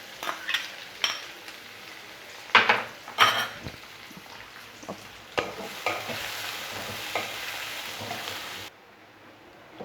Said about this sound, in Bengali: পেঁয়াজগুলো ভেজে নেবো আমি ভালো করে।